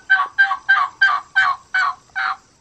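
Adult turkey hen assembly call played from a phone app, seven evenly spaced raspy yelps in a steady series, clear and close with no other sound.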